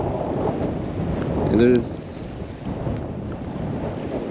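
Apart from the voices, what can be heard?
strong wind at a lake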